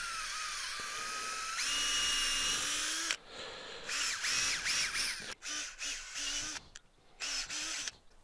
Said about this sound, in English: I drilled about 40 holes in this log here